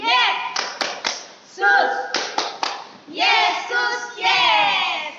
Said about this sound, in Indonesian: Yuk biar lebih semangat kita tepuk tangan Yesus ya.